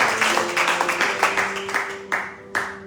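Church congregation applauding during a worship service, a steady wash of many hands clapping with occasional louder bursts, close and fairly loud, with a sustained tone running underneath.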